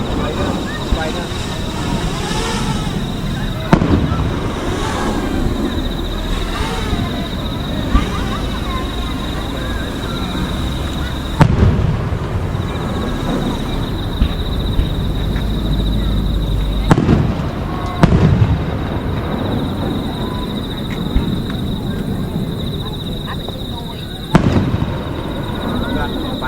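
Fireworks burst at a rural summer festival in Shobara, Hiroshima, with loud booms recurring every few seconds over a continuous crackle and crowd murmur, some voices audible in the background.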